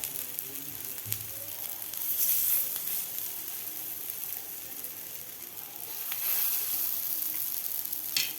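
Beetroot and potato cutlets sizzle and crackle in oil over a medium gas flame, a steady soft frying hiss with faint clicks and slight swells, no voices.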